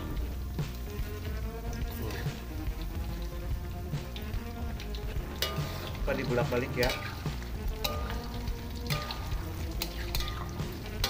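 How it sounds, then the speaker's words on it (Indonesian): Dough for gemblong, a sweet Sundanese snack, sizzles and crackles steadily in hot oil while frying until golden, with occasional stirring clatter and a voice speaking briefly nearby. "kita goreng sampai kekuningan ya."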